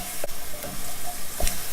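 Garlic and ginger paste roasts in a pan for a shrimp curry, giving a steady soft sizzle with a few brief scraping stir strokes, close and alone with no talking.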